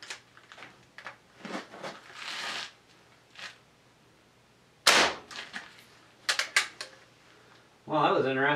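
A Crosman 2260 CO2 air rifle fired over a chronograph on a fresh CO2 bottle gives one sharp pop with a gassy release, surrounded by clicks and handling noises, with someone talking briefly at the end.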